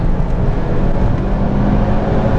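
A car lapping Rockingham's national circuit, heard as a loud, steady low engine drone and road roar throughout, close and continuous with no gaps.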